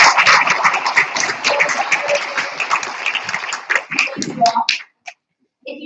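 Audience applause at an agricultural symposium, a dense burst of clapping that thins into a few scattered claps before stopping abruptly into silence near the end.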